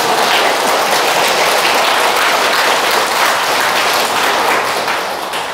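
Dense, steady applause from a lecture-hall audience fills the whole stretch, a loud continuous wash of many hands clapping at once that eases slightly near the end, with no voices over it.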